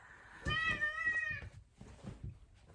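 A house cat meows in a rising, drawn-out call, close and fairly loud, followed by softer rustling and movement indoors.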